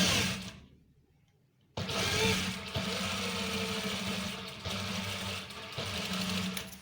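An electric sewing machine stitches police uniform trousers in quick rapid bursts: a short quiet pause, then a loud steady whirring run with slight changes in speed, close up and without voices.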